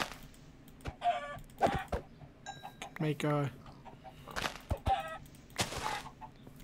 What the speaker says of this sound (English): Oh, there's chickens here, too.